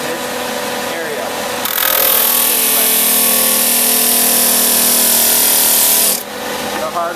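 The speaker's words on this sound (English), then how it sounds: "You want to sand down to the line." A longboard skateboard deck being power-sanded, a harsh steady whine and scrape that starts after a moment, holds loud and even for several seconds, then cuts off.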